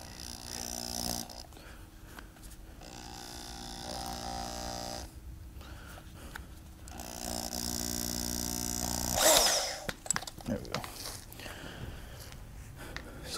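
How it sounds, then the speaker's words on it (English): A power drill fitted with an eraser wheel, set up for work on a BMW F80 M3, whirring in sustained tonal bursts with pauses and a sharp rise in pitch partway through; no talking. "I'll go get the drill set up. Still got this stupid ass eraser wheel on here."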